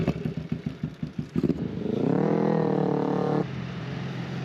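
A motorcycle being bump started: a clattering, chugging rhythm of engine pulses as the bike rolls, then the engine catches into a steady loud idle that settles lower, close by, with no talk.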